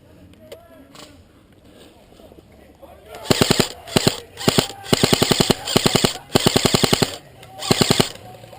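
Airsoft guns fire in rapid full-auto bursts, about eight sharp rattling volleys spaced through the second half, loud and close, with players shouting between them.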